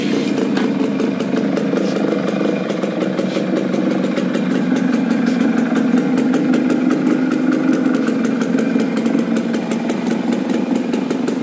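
A 2001 TVS-Suzuki Max 100R motorcycle engine idles steadily after a kick start, with a rapid, throbbing exhaust putter, loud and close, holding an even rhythm throughout.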